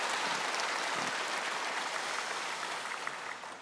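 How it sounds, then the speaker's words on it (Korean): A church congregation applauding the choir, a dense, even wash of many hands clapping that holds steady throughout and fades slightly at the end. "박수로 한번 감사하십시다"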